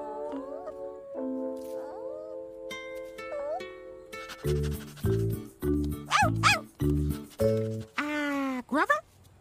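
A puppy in an Elmo movie yips and barks in a quick run of short, bright, rhythmic barks, with cartoon voices and tonal chirps around them.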